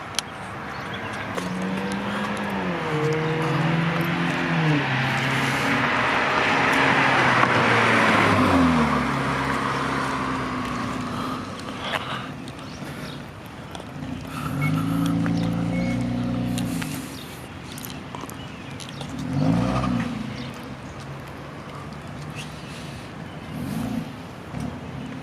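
A car engine being test driven, loud and revving, with a rising roar that swells and falls in several long pulls and bursts of acceleration, close and dominant throughout.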